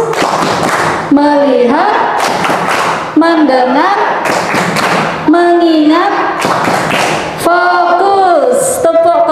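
Rhythmic hand claps punctuate a classroom clap chant, sharp regular bursts about once a second between voices chanting short words in unison, loud and close.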